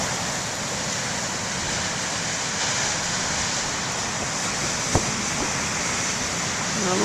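Ocean surf at a lighthouse beach makes a loud, continuous broadband wash with no distinct breaks, one brief knock partway through.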